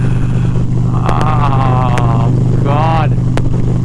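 A 2023 Indian Pursuit Dark Horse bagger motorcycle rides along with a steady, close engine drone that holds throughout while a rider speaks over it.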